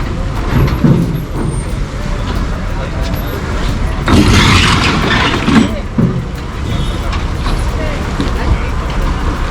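A heavy bus rumbles and roars nearby as it drives off a ferry in the Andaman Islands, with a hiss of air brakes partway through, while people talk over the engine noise.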